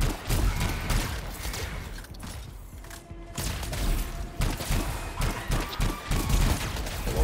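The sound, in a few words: gun firing in the video game Anthem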